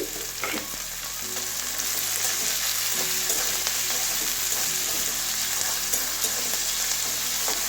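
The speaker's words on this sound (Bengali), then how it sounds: "এটা ভালো করে ভেজে নেব।" Salted masala frying steadily in hot oil for a brinjal and egg omelette curry, a continuous bright sizzle with occasional stirring scrapes, close and even throughout with no talking.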